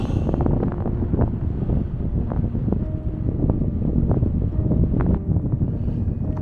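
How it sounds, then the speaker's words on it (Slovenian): Wind blowing hard across the Dovška Baba mountain summit and buffeting the microphone, a loud, constant roaring rumble with gusty swells and no talking. "Kar lepo piha."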